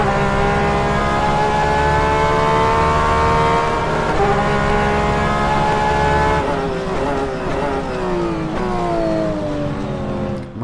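Race car engine in rFactor 2 on the Sebring circuit, loud and continuous, climbing steadily in pitch through the gears with sharp drops at each shift and rising again.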